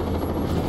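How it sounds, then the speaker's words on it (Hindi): A helicopter in the Prototype 2 action game gives off a short burst of dense, steady rotor and engine roar, loud and continuous with no voices over it. "और यहाँ पे हेलीकॉप्टर आ चुका है"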